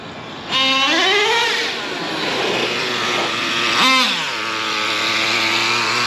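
A Traxxas T-Maxx nitro RC car engine starts with a loud rising whine, then settles into a steady buzzing idle with one brief rev partway through. It runs close and alone, with no talking.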